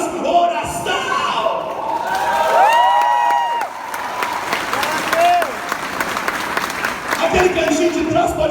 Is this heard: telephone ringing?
no